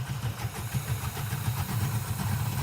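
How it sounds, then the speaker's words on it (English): A car engine idles steadily after new spark plugs and a richer carburetor idle mixture, a loud, even low rumble running continuously with slight rhythmic pulsing and no talk. "By opening it up, I'm gonna see if the idle picks up and smooths out."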